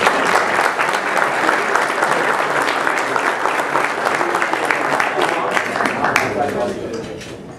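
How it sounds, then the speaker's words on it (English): Warm applause from a luncheon audience welcoming the speaker, a loud, dense burst of clapping that carries on steadily before tapering off at the end. "Mark Dotzour a warm applause"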